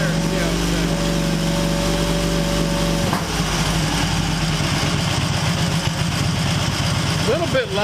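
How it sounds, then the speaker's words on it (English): An Excelsior Henderson Super X motorcycle engine idles with a steady drone, then shifts after a few seconds to a faster, slightly lumpy run at higher revs, close and continuous throughout. "We'll run the RPMs up a little higher and see how it"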